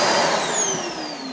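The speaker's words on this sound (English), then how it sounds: "The vacuum sucks it up and collects it." Built-in floor vacuum in an R-Pod 192 travel trailer sucking up swept debris, a loud close whining rush with a steady, slightly falling pitch through the brief burst.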